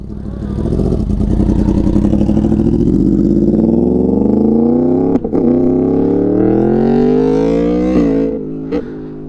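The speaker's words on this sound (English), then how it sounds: "Oh, that bike sounds so good." A motorcycle engine revs loudly and steadily climbs in pitch, with a few sharp blips near the end, close to the mic with no talking.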